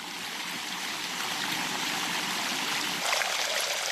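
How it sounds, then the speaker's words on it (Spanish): Water rushes down the stone channels of the Alhambra water stairway, a steady bright hiss and gurgle close by that swells a little toward the end, with no voices. "El agua se precipita con bastante velocidad, se remansa en los rellanos, entonces el sonido del agua cambia"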